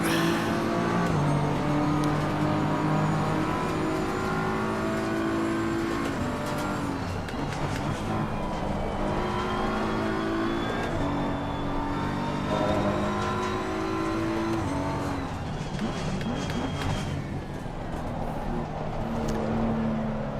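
A race car engine from Assetto Corsa Competizione on a lap at Snetterton drones loudly and continuously, pitch climbing through the gears and dropping on shifts and braking, with no talk over it.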